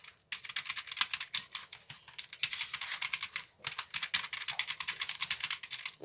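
Typing on a new computer keyboard, close and crisp, with quick runs of clicking keystrokes broken by short pauses and no voices.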